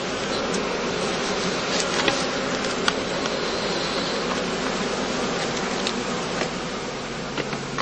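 Honeybees buzz steadily around straw skeps at a heathland apiary during heather bloom, a dense, continuous hum of many wings close by with scattered brief rises as individual bees pass.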